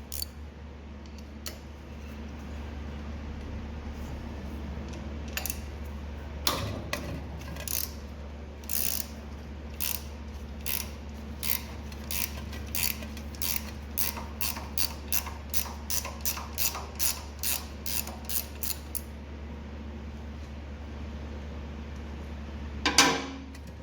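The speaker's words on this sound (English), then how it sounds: "get our 17 millimeter wrench, and we are going to remove the drain bolt and drain all the oil out of the pump" A 17 mm ratcheting wrench working the oil drain bolt on a Simpson or DeWalt pressure washer pump, a long run of crisp, closely spaced ratchet clicks in bursts, close up, ending with a louder clunk.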